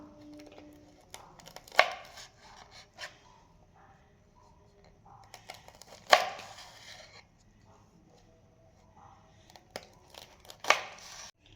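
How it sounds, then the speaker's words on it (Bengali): A knife chops green chillies on a board in a home kitchen, with a few separate sharp cuts spaced well apart over a quiet background. "প্রথমে কাঁচা লঙ্কাগুলো কেটে নেব"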